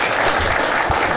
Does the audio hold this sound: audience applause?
yes